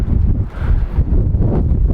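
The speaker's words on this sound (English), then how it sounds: "So, excuse the wind, it's crazy windy." Strong wind blows hard across the microphone outdoors near cabins, making a loud, continuous buffeting roar with gusty surges throughout.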